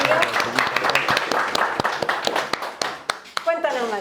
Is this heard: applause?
yes